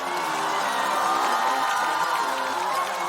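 A stand-up comedy show audience cheers and claps continuously as contestants are welcomed onstage, a dense, loud, steady crowd roar with whoops throughout.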